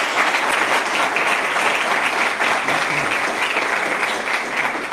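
Steady applause from an audience at a book presentation, dense and sustained for the whole stretch, with no voices over it.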